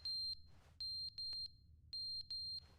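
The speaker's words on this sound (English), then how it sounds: "Fire alarm's going on." Electronic fire alarm beeping in the video game Stanley Parable Ultra Deluxe, a piercing high tone in uneven bursts of short and longer beeps, loud and alone over a low hum.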